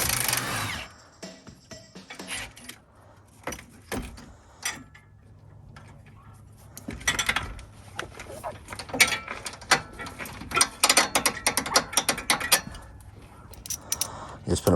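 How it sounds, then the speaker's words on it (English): A ratchet wrench clicks in short bursts as it loosens the sway bar link bolts on a Jeep Wrangler JL during a lift kit installation, with metallic clanks and handling noises between the bursts of ratcheting. "disconnect the sway bar links"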